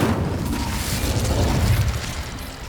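Incendio fire spell cast in Hogwarts Legacy, a loud whooshing roar of flame with a low rumbling boom that holds steady for a few seconds before easing off, with no talking.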